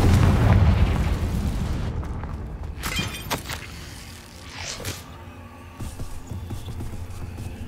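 A Confringo blasting spell goes off in Hogwarts Legacy, a sharp crack and boom followed by rumbling debris and a second burst near the middle, loud and up close within busy game sound.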